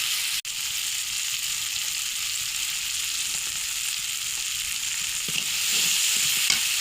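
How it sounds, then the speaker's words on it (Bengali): Ground cumin and green chillies frying in hot oil as they are stirred, making a continuous even hiss that holds steady throughout and swells slightly near the end, with no voices. "কাঁচামরিচ দিয়ে একটু নাড়াচাড়া দিয়ে নেবো ভালোভাবে"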